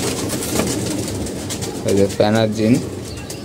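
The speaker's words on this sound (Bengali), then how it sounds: "যে আমাদের কবুতরগুলো নিচে নামছে, কিছু উপরে উঠতে আছে" Pigeons coo in a loft on a rainy day, a soft low burbling with two clearer rolling coos near the end, close by, while a person talks over them.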